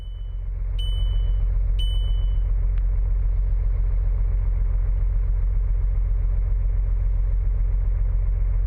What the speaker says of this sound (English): It's just the car noises.